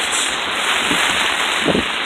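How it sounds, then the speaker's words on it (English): Strong wind roars steadily against the microphone, with a couple of brief gusts swelling through the rushing noise. "can hear that wind. That wind is whipping."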